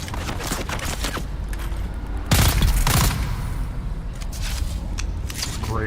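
Rifle fire in the survival game Dune Awakening, a dense burst of loud overlapping shots in the middle over a steady hum of game ambience, with scattered fainter reports before and after.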